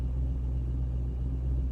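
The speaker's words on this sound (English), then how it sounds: "So just warming up my car, like I said. Cold start, idle's amazing." A C5 Corvette engine idles after a cold start, a steady, low, even rumble with a smooth continuous throb and no revving, close and unaccompanied by any voice.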